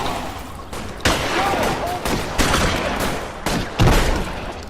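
Shotgun blasts in the L.A. Noire video game, several loud booming reports at irregular intervals over a dense bed of gunfire and noisy action.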